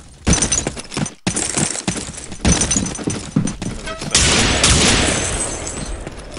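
Rapid bursts of British gunfire in a 12-player multiplayer video game match, loud, with dense volleys, a brief gap, then a sustained barrage in the latter half, with no speech.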